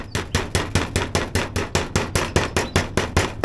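Steady, rhythmic hammer taps on a thin metal external gutter corner, about four sharp clanks per second, close and evenly spaced.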